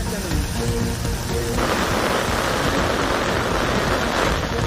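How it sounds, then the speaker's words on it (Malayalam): Steady, dense heavy rain in Pathanamthitta, Kerala, hissing without a break, a broad wash of noise with a low rumble underneath and no voices. "പത്തനംതിട്ടയിൽ ശക്തമായിട്ടുള്ള മഴ തുടരുകയാണ്"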